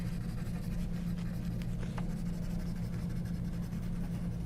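Coloring around a drawing on gray paper, a continuous scratchy rub of the coloring tool against the sheet, steady and close over a low constant hum.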